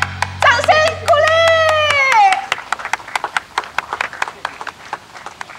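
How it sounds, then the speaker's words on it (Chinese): Children clap together in a village gathering, quick scattered claps building into a ragged round of applause after an adult's brief spoken cue at the start. "好吃好吃，掌声鼓励。"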